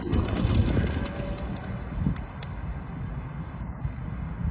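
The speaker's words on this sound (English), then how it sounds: "That's it, the pigeons are leaving us," Pigeons in a historic street area, with soft flapping and cooing over a low outdoor murmur, close by at first and then fading as the birds fly off.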